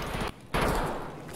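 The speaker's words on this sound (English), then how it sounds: "Shots." Gunfire in a scavenger-themed shooter game: a loud, close burst of shots, a short gap of near silence, then another heavy report that rings out and fades.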